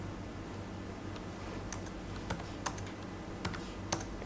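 Computer keyboard keys are tapped for a paste shortcut, a few faint, sharp clicks scattered over a quiet background hum with no talking.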